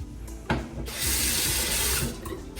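Water gushes from a tap into a truck stop sink, starting with a splash and then running loud and steady under high pressure, with no voices.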